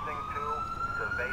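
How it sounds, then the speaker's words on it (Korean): An ambulance siren in GTA IV, a steady wailing tone sweeping slowly upward, heard close and clear over a dull background rumble. "앰뷸런스, 컴온요"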